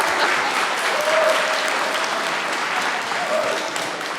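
A crowd at an evening event applauds to welcome a scholar speaker, Mr. Xilin Jiang, onto the stage: sustained, dense clapping that is fairly loud and close and holds steady throughout.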